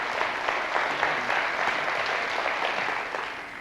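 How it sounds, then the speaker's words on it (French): The studio audience of the French game show Questions pour un champion breaks into steady, dense applause during the final, a sustained wash of clapping with no voices over it. "Et ils ont raison d'applaudir."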